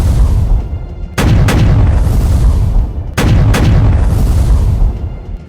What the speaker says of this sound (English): The French brig force retaliates with consistent and accurate volleys of fire aimed at the Victory.